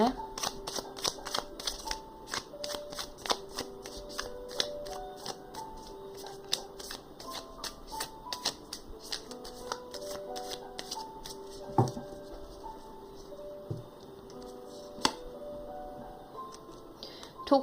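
A deck of tarot cards is shuffled by hand in a quiet room, giving steady riffling and slapping with occasional sharper card taps throughout, close and moderately loud, with a faint voice briefly in the background.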